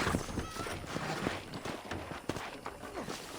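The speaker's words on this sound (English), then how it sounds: "Okay, let's see if you can still ride a horse." A horse's hooves clip-clop at a steady trot while being ridden on a ranch in Red Dead Redemption, the rhythmic hoofbeats close and continuous over a bed of ambient game sound.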